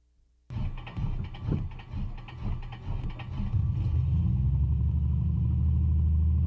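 A Piper PA-24 piston engine in Microsoft Flight Simulator cranks with uneven sputtering pulses, then catches and settles into a steady, loud rumbling idle.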